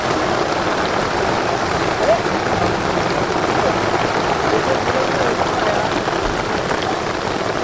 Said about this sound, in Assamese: তামাম বৰষুণ দিছে।